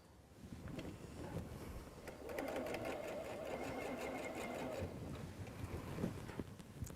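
A sewing machine runs steadily at close range for a few seconds while stitching quilt seams, a buzzing mechanical hum that starts and stops against quiet room noise.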